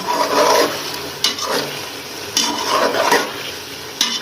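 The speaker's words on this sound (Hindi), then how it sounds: "ये अब हम इसे 1-2 दफ़ा और चम्मच इसके चलाएंगे।" A spoon stirs chicken capsicum curry in a pan, giving several loud scraping strokes with a soft sizzle beneath, close and without talk.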